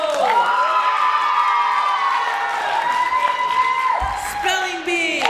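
A school comedy-improv audience of teens cheers, whoops and shrieks loudly and continuously, with high-pitched screams of young voices dominating over clapping in a packed room, the roar holding steady with a few bursts of shouting.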